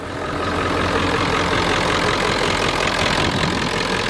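Close, loud diesel truck engine running at a steady idle, a gritty knocking clatter over a deep rumble that keeps an even rhythm throughout with no voices.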